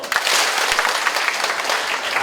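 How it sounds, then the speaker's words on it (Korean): A crowd applauds together in a dense, steady burst of clapping, loud and sustained from start to finish. "제 선창에 따라서 박수를 한번 쳐주시기 바랍니다"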